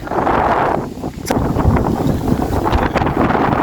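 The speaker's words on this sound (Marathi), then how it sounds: "एवढा जबरदस्त वारा आहे" Strong wind over the Koyna River buffets the microphone in a loud, continuous roar with gusty surges, close and steady throughout, with no voices heard.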